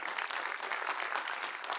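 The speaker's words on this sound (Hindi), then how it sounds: "राजेश जी के लिए एक बार जोरदार तालियां हो जाए" A music show finale audience breaks into a dense, even round of clapping, loud and sustained from start to end.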